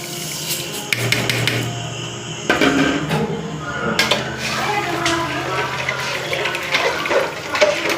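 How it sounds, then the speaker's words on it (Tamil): Water in a pot on the stove heats toward a boil for making kesari, a sugar and semolina sweet, with bubbling and liquid sounds plus clinks of cookware throughout, while a person speaks nearby. "தண்ணி கொதிக்குது"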